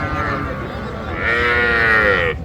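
Young cattle mooing at a busy livestock market: one loud, close, drawn-out moo swells over crowd murmur, with voices in the background.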